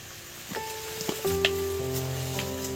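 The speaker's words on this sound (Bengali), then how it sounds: "বন্ধুরা আলুগুলো ভাজা হয়ে গেছে, দারুণ একটা সুগন্ধ আসছে না, আলু ভাজার অন্য একটা মজা।" Potatoes fry in ghee in a pan, a steady sizzle with a few sharp crackles, overlaid by sustained tonal humming sounds and no speech.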